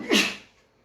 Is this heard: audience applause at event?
no